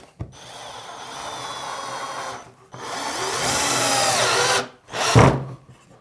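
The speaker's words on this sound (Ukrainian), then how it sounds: "спробуємо ще один закрутити. Цей саморіз вже буде 4 на 40" A cheap cordless drill driver runs in bursts driving a black 4x40 screw into wood, with a short whine, a longer rising motor run as the screw goes in, then a final brief burst, close and loud.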